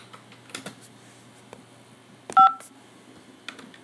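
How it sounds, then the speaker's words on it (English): A single telephone keypad DTMF tone pressed to accept a call, a short bright beep amid faint clicks and handling noises on a quiet line. "To accept this call, press 5 now."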